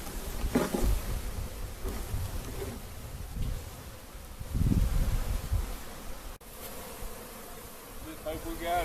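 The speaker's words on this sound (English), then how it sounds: "dump the bees into the box, the hive box that he has down there" A swarm of honeybees drones in a loud, continuous buzz as the swarm is knocked from a bucket on 2x4s into a hive box, with a few soft knocks and rustles.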